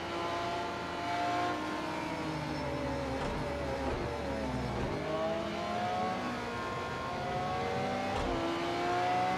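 The Lamborghini Veneno hypercar in Project CARS 2 at Imola, its engine droning steadily with shifting pitch as it revs and accelerates, heard continuously with no talk.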